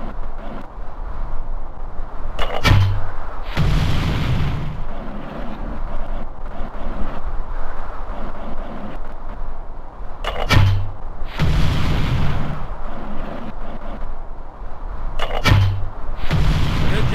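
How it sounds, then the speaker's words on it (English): Mortar fire in World at War for Nintendo DS: three heavy booming launches spaced several seconds apart, each a sharp crack followed by a rumbling blast, over continuous low wind-like battlefield noise. "Walk up and man that mortar."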